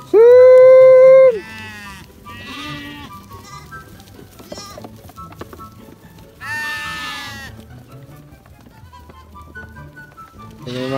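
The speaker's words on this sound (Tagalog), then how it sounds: "Ayan yung mga kambing natin na matakaw sa asin" Farm goats bleat loudly up close, one long wavering cry opening, then more calls from several animals scattered through the stretch over a low murmur of background farm noise.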